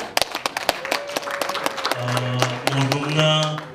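An audience applauds, with scattered sharp claps in the first two seconds giving way to a denser, tonal murmur of sound.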